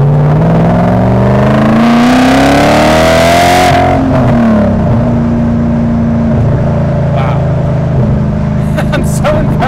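A BMW E39 M5 engine revs loudly up to a peak and then drops back to a deep, steady idle rumble, close to the car.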